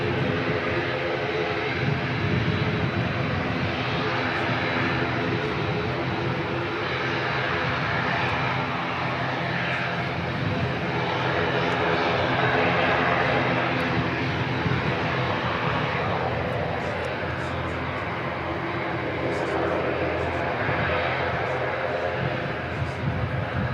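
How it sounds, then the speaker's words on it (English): An ATR turboprop departs from Christchurch Airport bound for Invercargill, a sustained broad engine roar with droning tonal hum, steady and moderately loud across the whole stretch, swelling slightly midway. "ATR coming out and heading down to Invercargill"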